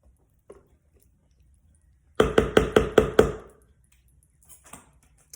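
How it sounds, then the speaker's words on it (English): Sweet potato pie filling is stirred in a bowl, giving six quick, evenly spaced utensil clacks against the side, loud and close, with a few faint taps before and after in a quiet kitchen. "Now you're going to stir this up again."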